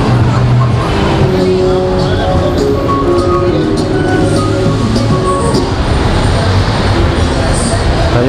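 An LRT light rail train passes nearby on an urban street, a loud continuous rumble and metallic rolling roar mixed with traffic noise, filling the whole stretch.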